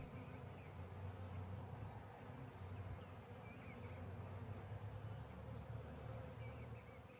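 Southern Italian honeybees from a package being installed into a hive hum in a dense, steady swarm drone that holds evenly throughout, close and continuous with no voices.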